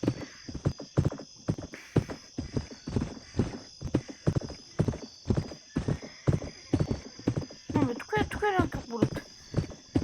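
Hooves of a horse in the Westbound video game clip-clop in a steady, fast rhythm throughout, joined near the end by a loud rising whinny, with a voice talking over it.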